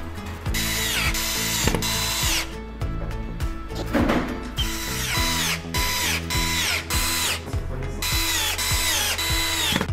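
A power screwdriver driving self-tapping screws through a corner bracket into the side rail of a white 160x200 double bed frame with a lift mechanism; loud close whirring bursts with pitch shifts as the screws seat, repeated across several drives.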